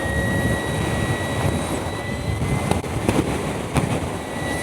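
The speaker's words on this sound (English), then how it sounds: "The wind is just pressing" Continuous broadband wind roar buffets steadily while riding a big electric touring motorcycle, loud and close with occasional gusty thumps.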